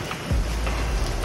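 Rain falls steadily along a scenic mountain road on the way to Darjeeling, a close, continuous hiss of drops on surfaces with a low rumble, brief and without talk.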